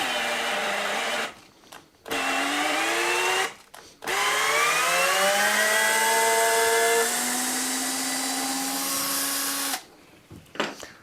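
A Milwaukee power drill bores into material and labours under load, its whine bending in pitch as the motor bogs down. It runs in three close, loud bursts separated by short pauses, with no talk over it.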